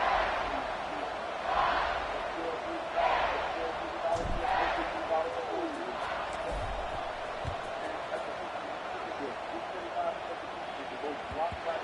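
Video game football stadium crowd roaring steadily in a broad wash of cheering, with swells and scattered claps throughout, moderately loud and continuous.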